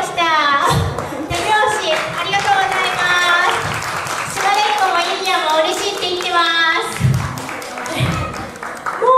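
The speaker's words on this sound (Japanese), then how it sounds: "拍手を。" Clapping from a gathered crowd at a fifth-anniversary event at a sacred straw rope workshop hall, intermittent and moderately loud, mixed with talking voices and children's chatter throughout.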